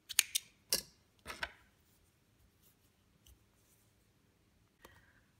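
Scissors cutting crochet yarn: a few quick, crisp snips close by at the start, then quiet, with one more faint snip near the end.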